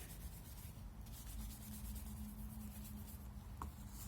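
A cloth rubs water-based finish onto wooden furniture, making a faint, steady soft scrubbing close by with a quiet background hiss.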